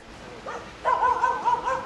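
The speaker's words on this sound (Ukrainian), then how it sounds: "наша программа вскоре услышала еще и лай собак" A Pungsan dog, a rare Korean breed, gives a short whine, then a string of high, yelping barks in quick succession, close by.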